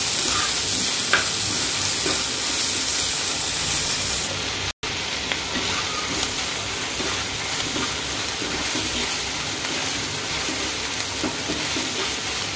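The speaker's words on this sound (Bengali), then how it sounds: "মাংসগুলো একটু ভেজে নেব যেন হলুদ একটু হালকা হলুদ কালার আসার জন্য, আর লবণ দেব ভাজার জন্য।" Chicken meat frying and being stirred in a pan with turmeric and salt, a steady close sizzle running throughout with a brief dropout midway and faint scraping stirs.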